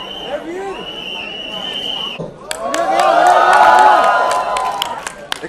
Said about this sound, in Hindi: तुमने ताली बजाई, श्रद्धा ने की ताली बजाई